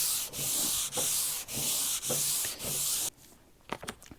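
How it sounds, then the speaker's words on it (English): Folded sandpaper rubbed by hand over a wooden farmhouse table top in steady back-and-forth strokes, about one per half second, a close, loud rasping scrape that stops and gives way to faint handling clatter. "So that's all the sanding."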